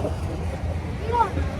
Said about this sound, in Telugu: బోట్ రైడింగ్ స్టార్ట్ అయింది